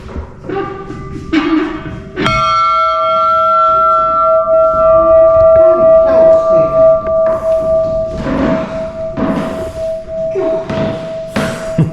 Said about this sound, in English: That bell's lasted a while, hasn't it?